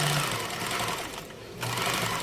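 A Brother Select-EX sewing machine stitches with a fast, close mechanical whir that pauses briefly midway and then resumes, with no voices.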